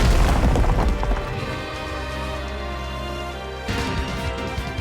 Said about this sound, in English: Now, destroy the bridge!